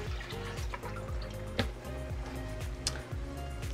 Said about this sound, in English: I did get a bit of new freshly mixed salt water that I'm gonna dump into my tank